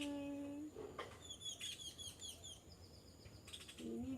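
Birds chirp and tweet in a garden with quick repeated high calls in bursts, moderately near but soft, with no talk.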